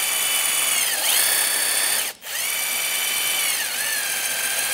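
A small wire brush spins inside a brake caliper slider hole during a front brake job on a 2010-2015 Lexus RX350, giving a steady high motor whine with brief pitch dips and a short break midway.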